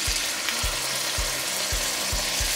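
Scallops searing in browned butter in a pan give a loud, continuous, dense sizzle, punctuated by regular low thumps roughly every half second.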